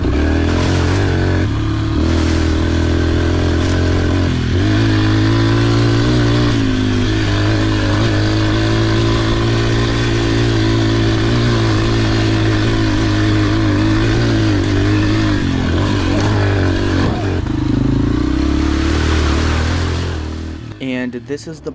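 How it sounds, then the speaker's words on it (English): A 1995 Suzuki RM80 dirt bike climbs a mountain trail in first gear, its small two-stroke engine held at a loud, strained high rev almost the whole time before it drops off near the end. "So to go up a mountain, you have to be flooring it first gear to go up a simple slope."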